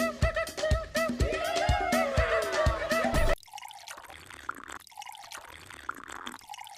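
Liquor poured into a glass during a comedy sketch: after a loud musical stretch, a soft trickling pour and a few drips come through faintly.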